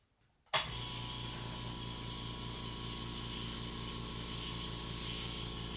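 An ultra quiet air compressor starts abruptly and keeps running with a steady, even hum and soft airy hiss, fairly quiet and alone throughout.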